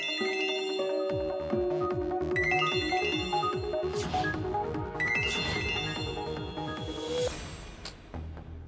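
A mobile phone left ringing unanswered in an office, a loud, close melodic ringtone repeating its tune over several seconds with no voices.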